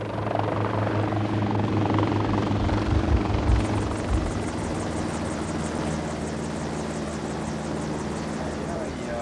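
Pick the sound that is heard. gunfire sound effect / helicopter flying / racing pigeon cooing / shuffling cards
helicopter flying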